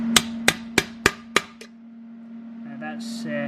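Five or six sharp metallic taps in quick even succession as a hammer knocks a tacked weld-in oil baffle down into a K-series engine's sump, ringing over a steady hum, followed by quieter clatter.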